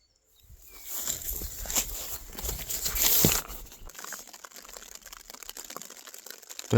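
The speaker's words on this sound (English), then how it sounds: "Here comes the rain." Rain begins falling on a tent at a roadside campsite on the Devon border, a soft crackling patter that swells to a dense rush, then settles into lighter, scattered drops.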